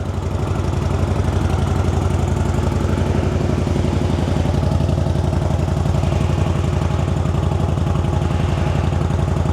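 A CFMOTO ZFORCE 950 UTV with its stock exhaust idles steadily close by, a low rapid chugging throb with faint mechanical clatter, constant and unbroken throughout.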